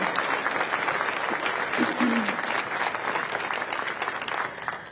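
An audience at a Patriot Day remembrance breakfast rises for a standing round of applause, steady dense clapping that holds for the whole stretch and fades slightly at the end, with a brief voice murmuring underneath.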